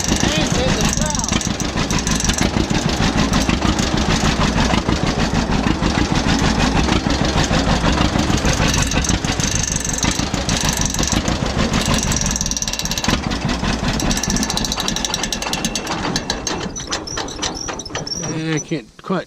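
A John Deere 4640 tractor engine runs steadily close by with a rhythmic knocking rattle that may come from a loose belt. The sound stays loud and even, then fades unevenly near the end, with talk now and then.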